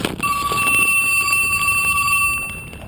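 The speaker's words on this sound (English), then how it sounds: "It's your phone that was ringing." A phone rings with a steady, bright electronic tone that is loud and close and carries on for nearly the whole moment.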